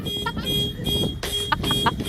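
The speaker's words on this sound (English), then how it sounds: "I can't tell y'all how many car alarms go off in this neighborhood" A car alarm goes off in a residential neighborhood, repeating electronic tones and chirps in bursts that rise and fall, fairly loud and near, with faint background noise.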